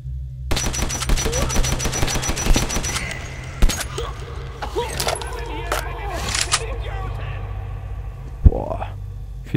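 Rapid automatic assault rifle fire rings out in the video game Metro 2033, a fast rhythmic burst of close, loud shots followed by scattered single shots and clanks as someone talks over it.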